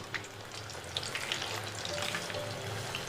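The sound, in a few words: chicken leg pieces frying in hot oil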